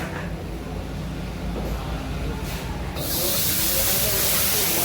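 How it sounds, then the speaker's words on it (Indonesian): Big flame roaring up into a wok while seafood capcay is stir-fried over a high fire at a Palembang food stall, a steady loud rushing hiss that swells louder and brighter for the last couple of seconds. "Apinya masuk ke dalam kuali."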